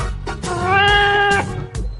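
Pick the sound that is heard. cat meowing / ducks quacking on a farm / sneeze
cat meowing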